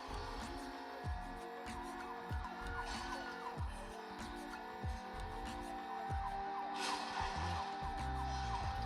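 Car racing in Asphalt 9 played on a budget gaming tablet: continuous game engine roar with a wailing siren tone, repeated thumping impacts and whooshes, steady and fairly loud with no talk.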